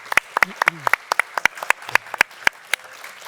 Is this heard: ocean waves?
no